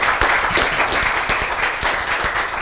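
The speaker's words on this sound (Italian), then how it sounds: "Un applauso a Sergio Bianchetto." A crowd applauds Sergio Bianchetto at a women's football event, dense clapping holding steady and fairly close for the whole stretch, with scattered sharper hand claps standing out.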